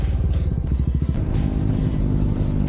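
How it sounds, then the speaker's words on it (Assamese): Motorcycle exhaust rumbles steadily while riding along an empty road toward Shillong on a Republic Day ride, a close, throbbing low drone with brief pulsing revs early on and no talk over it. "এক্সজষ্টৰ চাউণ্ডটো চালিয়া ওলাই আছে বে."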